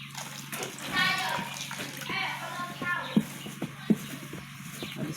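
Salt water poured bit by bit into liquid soap, splashing and trickling close by under steady talk, with a few sharp knocks near the end.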